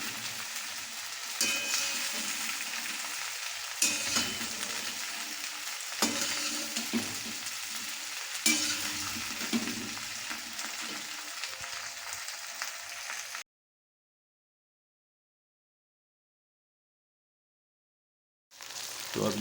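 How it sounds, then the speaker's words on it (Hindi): Okra (bhindi) frying over high heat in a pan, a dense continuous sizzle with stirring bursts, close and steady, then a few seconds of total silence before the sizzle returns. "तो अब ये भिंडियाँ फ्राई हो रही हैं।"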